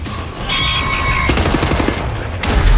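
Rapid automatic gunfire from a gun in Wolfenstein: The New Order, dense and loud, a continuous stream of shots over a rumbling low end.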